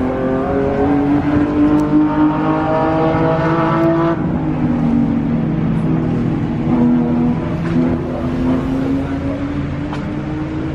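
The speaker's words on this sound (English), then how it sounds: "That Supra sounds good." A Toyota Supra engine revs and roars up and down at a racetrack, loud and close, with shifting engine pitch throughout.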